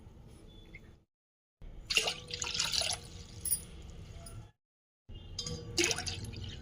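Water is poured by the glassful into a vessel for a rice flour recipe, in splashing bursts separated by short silent pauses.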